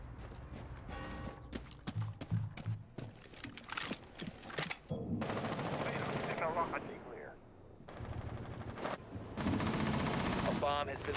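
Bursts of gunfire ring out in a Rainbow Six Siege video game match, with rapid automatic volleys and single cracks, some loud and near and others farther off, broken by brief lulls, while a commentator talks over the action.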